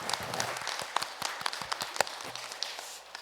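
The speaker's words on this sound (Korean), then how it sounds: "우리를 회복시키신 우리 하나님께 감사와 영광의 박수 올려드리겠습니다." Congregation clapping during a Korean church worship service, a moderate scatter of individual claps forming brief, uneven applause that fades near the end.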